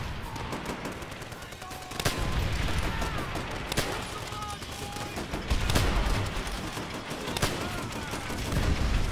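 Rapid gunfire bursts from the video game Call of Duty: World at War, with repeated sharp shots and several louder cracks over a dense battle din, running throughout.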